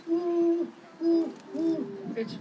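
Great horned owl hooting at close range, three deep, resonant hoots spaced about half a second apart against a quiet background.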